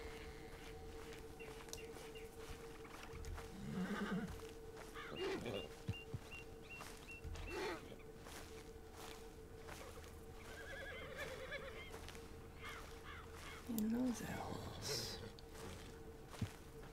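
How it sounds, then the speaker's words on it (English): A horse neighs a few times in the middle distance, with short whinnying calls standing out over a steady background hum and faint outdoor rustle. "it is decidedly a horse."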